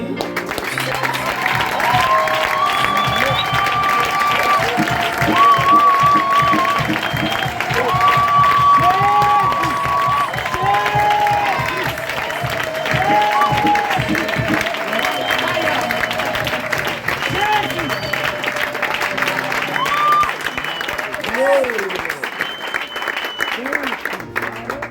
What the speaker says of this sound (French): Alors aidez-moi à acclamer.